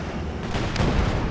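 A World War II tank battle game with Panzer IVs: a bunker-busting artillery barrage rumbles as continuous booming blasts, heavy and close, swelling toward the end.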